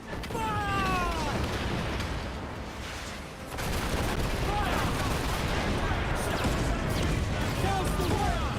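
Ship cannons fire in a naval battle video game, loud booming blasts over a dense roar of battle noise and sea ambience, with a voice shouting orders on top.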